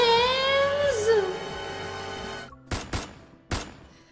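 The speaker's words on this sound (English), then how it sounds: "A gunshot explodes in the empty reception hall." A few sharp gunshots ring out in an empty reception hall in the video game LADS. They come as separate loud cracks after a sustained tonal, musical passage fades out.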